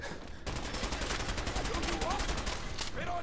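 Dense bursts of rapid gunfire in Fallout 4, loud and continuous with overlapping shots and faint in-game voices mixed in.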